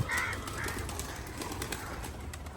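Soft, low pigeon coos repeating nearby, with faint fluttering and a light background hum.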